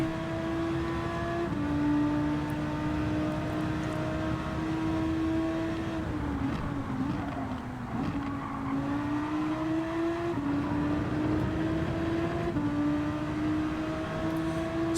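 Race cars lapping Watkins Glen in Gran Turismo 7 during GT qualifying, a loud continuous engine note rising and dipping through gear changes and corners, the sustained howl running steadily throughout with no talking.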